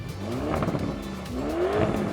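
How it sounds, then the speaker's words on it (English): A Lamborghini Urus Performante's V8 with an Akrapovic exhaust revs and accelerates, its raucous, rumbling note rising through two upward sweeps, fairly close, with a hint of tyre noise. "The raucous, rumbling V8 with a throaty Akrapovic exhaust that makes the smile even broader."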